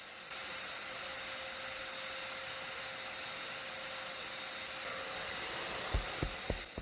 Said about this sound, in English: they're flooding right into the entranceway and getting sucked up by the vacuum